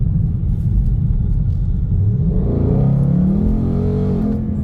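A Ford Mustang's deep, throaty Euro Arts aftermarket exhaust rumbles steadily, swelling and rising in pitch as the engine revs up near the end.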